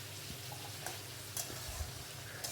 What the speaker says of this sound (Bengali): মশলাটাকে তরকারির সাথে কষিয়ে নেব